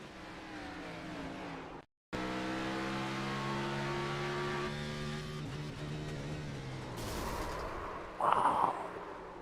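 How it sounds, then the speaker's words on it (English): Race car engine at Daytona superspeedway heard from an onboard helmet camera, a loud sustained harmonic drone that briefly cuts out, then winds down in pitch as the engine fails, ending with a sharp burst of noise. "you can hear that engine go poof"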